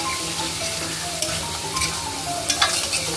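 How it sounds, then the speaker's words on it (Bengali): Spiced masala for a katla fish curry sizzles steadily in a pan, with scraping stirs and a few sharper clatters of the spoon rising over the continuous frying hiss. "আঁচ বাড়িয়ে একটু কষিয়ে নিলাম।"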